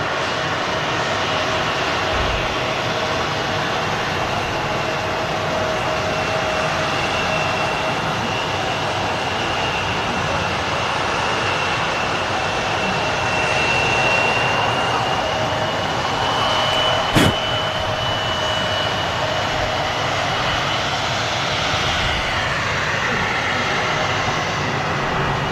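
A jet airliner at Manchester Airport, including a Jet2 aircraft holding nearby, gives a steady, loud engine roar with a faint whine that runs the whole time, plus one sharp click partway through.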